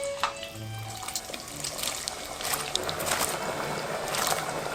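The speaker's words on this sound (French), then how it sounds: "Là, mon huile est à 150 degrés, donc je vais plonger mes frites une première fois." French fries plunged into hot oil at 150 degrees for a first fry, a steady bubbling sizzle with crackling spatters throughout.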